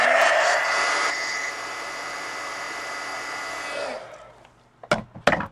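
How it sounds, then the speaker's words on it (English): A heat gun blows steadily over paper to dry marker ink, a loud continuous airy whoosh with a whining tone that runs for about four seconds and then cuts off, followed by a few short handling knocks. "So I'm going to dry that here with the heat gun."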